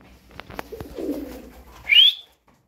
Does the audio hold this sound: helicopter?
no